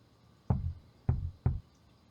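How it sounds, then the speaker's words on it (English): Knocking comes from next door in the video game Unheard: three dull, heavy knocks, muffled and close, with the last two following quickly after the first. "Wait, where's the knocking coming from?"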